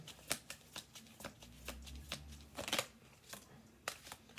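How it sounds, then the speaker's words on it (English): A deck of tarot-style reading cards is shuffled close by, with quick crisp riffles and soft flutters repeating in an uneven rhythm with no talking. "We'll do one more shuffle."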